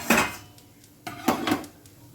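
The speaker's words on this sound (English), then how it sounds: "going to cover it with thali" A metal thali plate is set over a cooking pan as a lid, giving a clattering metallic clink, then a second pair of sharper clanks about a second later.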